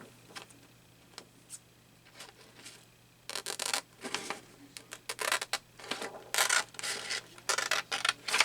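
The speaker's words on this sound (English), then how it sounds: "Take my scissors." Scissors make a run of short, crisp snips as paper is cut for scrapbook journal pockets. Sparse and quiet at first, the cuts come in quicker, louder bursts for the second half, close up and with nothing else over them.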